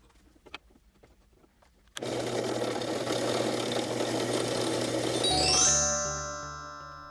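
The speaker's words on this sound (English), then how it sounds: "Then just drill through the jig and through the part." A mini mill drills through a steel jig and the metal part for a Ford Mustang throttle linkage adjuster end, starting abruptly after a few light taps with a loud steady whirring grind that rises, then shifts to a ringing whine as it spins down.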